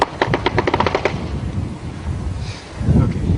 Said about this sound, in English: They're firing RPGs and mortars at us.